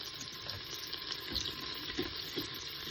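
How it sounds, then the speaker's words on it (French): Bell pepper pieces hit hot olive oil in a Cookeo electric multicooker, giving a steady, even sizzle and hiss at moderate distance that holds without pause for a few seconds. "une fois que notre huile est chaude, on va pouvoir mettre"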